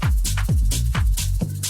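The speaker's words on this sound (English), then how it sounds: "That little shaker kind of sound." Tech house beat with a deep kick and bright, airy shaker-like bursts on the offbeats, looping steadily and loud with no voices.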